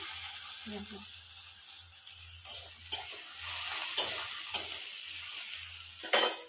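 Bitter gourd, eggplant, potato and tomato fry in hot oil in a pan with a steady, bright sizzle, broken by a few scrapes and knocks of a stirring spoon. A faint voice is heard briefly.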